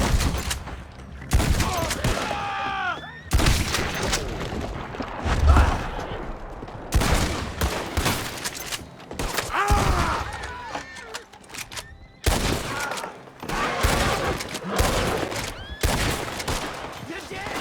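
Gunfire in the video game Red Dead Redemption 2, with repeated sharp shots and volleys over about eighteen seconds, some close together and some spaced, loud against a game backdrop that includes hoofbeats.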